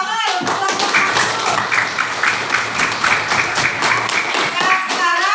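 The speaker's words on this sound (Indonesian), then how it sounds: "tepuk tangan untuk kelompok" Children in a classroom clap together for a group during a coding and computational-thinking lesson, a dense steady patter of small hands lasting several seconds, with young voices chattering faintly underneath.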